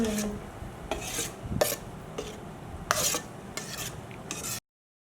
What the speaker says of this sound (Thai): ทีนี้เราคนให้เข้ากัน นะครับ คนทั้งสองส่วนให้เข้ากัน